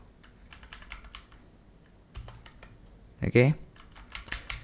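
Keystrokes clatter on a computer keyboard as a short phrase is typed, light clicks in uneven bursts with a brief word spoken at the start and quiet room tone between taps.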